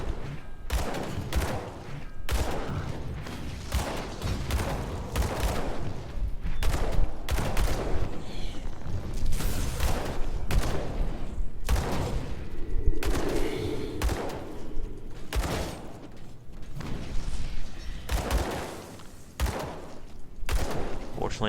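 Gunfire, spells and bombs in a hectic fight in the video game Grim Dawn: rapid bursts of shots and blasts come one after another, loud and dense, with a voice talking over parts of it.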